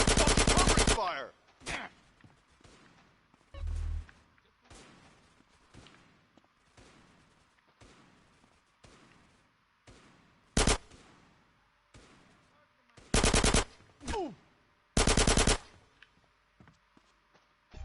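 Gunfire in the GTA San Andreas video game: scattered sharp gunshots and short bursts spaced through a quiet stretch, with several loud broadband bursts standing out, no talking heard.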